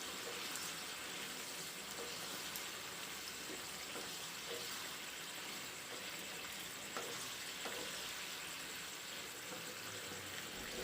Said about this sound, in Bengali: এতে আমরা সয়াবিনগুলোকে দিয়ে একটুক্ষণ কষে নেব।